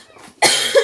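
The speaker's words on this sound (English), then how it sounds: "I have to cough my guts up." One person lets out a single loud, harsh cough at close range, sudden and brief after a quiet moment.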